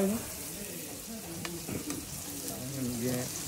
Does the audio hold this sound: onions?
yes